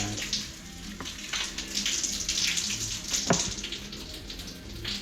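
Water trickles and splashes continuously from a cut pipe on a one-pipe heating system, a steady hissy patter with a few sharper drips standing out, close and fairly quiet, no voices.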